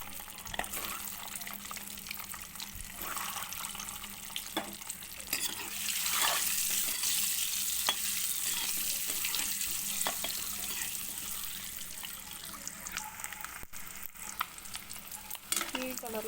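Eggs dropped one at a time into hot oil for a spicy masala egg curry, crackling and sizzling steadily with occasional scrapes and clinks of stirring, growing louder midway and continuing without any talk.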